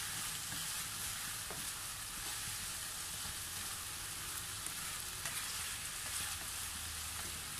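Onion and garlic sauté in a pan with a steady, close sizzling and frying hiss, broken by a few faint stirring clicks, with no voices.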